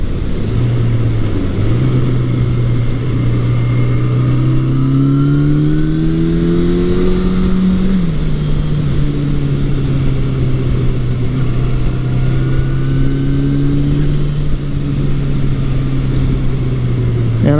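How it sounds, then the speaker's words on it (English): A 1982 Suzuki GS750E motorcycle on a test ride after carburetor work, its engine droning steadily and loudly up close as it climbs through the revs, eases off, then holds a smooth, even pitch with no talking. "As I'm on a test drive, I'm always very hyper aware of what's going on with the bike."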